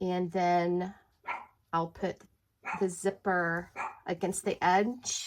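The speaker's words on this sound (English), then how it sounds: "she is just randomly barking in the hallway" A dog barks now and then from a hallway, the sharp barks mixed in with someone talking nearby.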